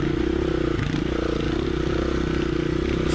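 Honda CRF 450L dual sport motorcycle ridden along smooth single track, its engine a steady, close droning rumble with clattering and scraping over the trail throughout, no talk.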